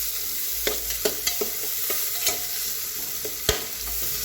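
Sliced onions sautéing with masala in a pressure cooker for masale bhat, a continuous close sizzle punctuated by several distinct spoon scrapes and taps against the metal.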